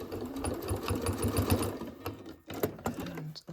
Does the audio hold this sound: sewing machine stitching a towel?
yes